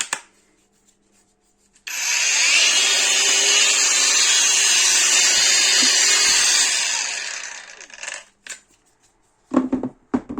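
A WORX 20V cordless angle grinder whirs loudly and steadily for about six seconds, then winds down, followed by a few sharp clicks and knocks.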